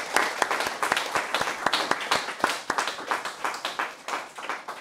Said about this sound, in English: can we have one huge round of applause for Professor Sahai?